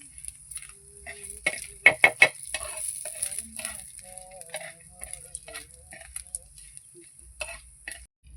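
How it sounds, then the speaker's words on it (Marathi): Masala spices dry-roasting in a pan until golden, heard as quiet scattered ticks and scraping stirs with a light sizzle and a few sharper clicks, plus faint background sounds. "लाल होस्तोवर मसाला भाजायचा आहे गोल्डन कलरचा"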